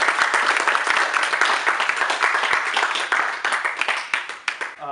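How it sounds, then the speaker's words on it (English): Audience applauding three panelists at a Cornell panel discussion on music and academia, loud and close, with dense clapping that continues steadily and begins to thin out near the end. "So let's have a round of applause for our three panelists here."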